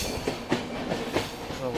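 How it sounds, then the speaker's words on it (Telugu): A single-track train near Dudhsagar runs toward a tunnel, heard from on board with a steady rumble and rhythmic clickety-clack wheel beats on the rails at a moderate level. "ఈ కేవ్లో నుంచి అయితే పోతుంది ఇప్పుడు ట్రైన్"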